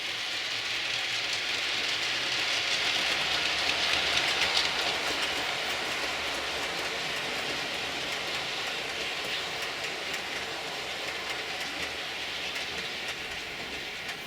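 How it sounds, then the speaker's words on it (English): A train rolls past along a top embankment, giving a steady, fairly loud rumble with faint rhythmic clatter that holds throughout and fades slightly toward the end. "bit of train spotting on the top bankment."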